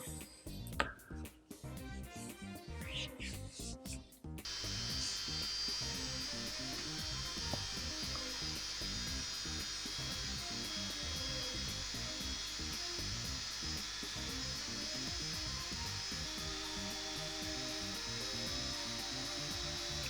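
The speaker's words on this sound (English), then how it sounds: "I need to get the Dremel onto those." A Dremel rotary tool grinds crimps off the axles of a Matchbox Superfast Ford Escort Mk2 RS2000 toy car, starting with a few stuttering bursts before settling into a continuous high-pitched whine close to the microphone.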